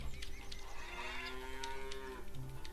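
Cows in Lumberjack's Dynasty moo in a long, drawn-out low call that rises and sustains, followed by a shorter second moo, heard over steady background ambience.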